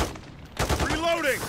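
Gunfire in Call of Duty Modern Warfare 3 Zombies: a burst of rapid shots breaking in after a quieter start, close and loud, with a rising game tone behind it and no clear talk.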